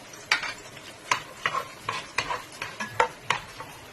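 Nuts frying and being stirred in a pan during halwa preparation: a series of about eight to ten sharp scraping, clattering stirs at an irregular rhythm over a low sizzle, close and fairly quiet.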